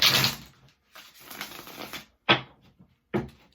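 A deck of tarot cards is shuffled close by in several short, papery riffles separated by brief pauses, each burst crisp and quiet.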